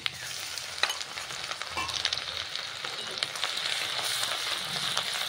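Grated garlic and ginger sizzle in hot oil in a pan for chili chicken, a steady crackling fry with occasional stirring clatter, close and continuous.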